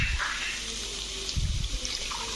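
Hot water poured into a pan of prawn masala, a splashing liquid stream in short bursts at the start and middle, with quieter kitchen sounds between.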